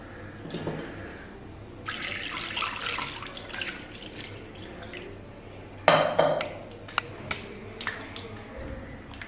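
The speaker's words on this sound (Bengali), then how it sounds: "এইরকম ভাবে জল দিয়ে দিয়ে আবার ধোব।" Water splashes and pours as a paneer and maida dough is washed by hand in a bowl, running and sloshing with a louder burst of splashing midway and a few clinks of the vessel.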